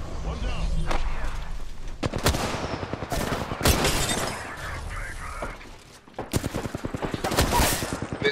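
Video game gunfire rattles in rapid bursts and sharp single cracks, with sporadic shattering impacts and short pauses, close and loud, and voices sometimes talking over it.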